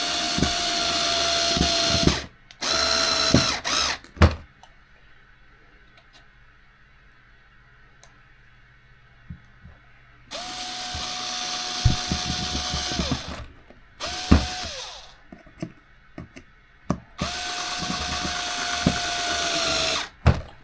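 A power drill drives screws into an RC car chassis in three bursts of whirring, each a couple of seconds long and separated by quiet handling and clicks, with the bit seeming to slip on poor screws.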